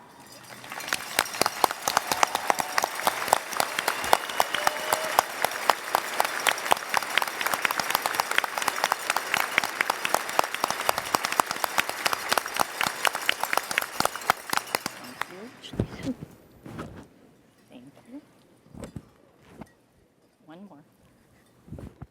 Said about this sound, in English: please stand and signify your commitment with your applause